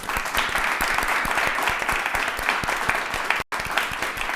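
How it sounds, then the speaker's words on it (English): A debate audience at UNL in Lincoln claps in a sustained, dense round of applause that cuts out abruptly near the end before resuming briefly. "give them a round of applause"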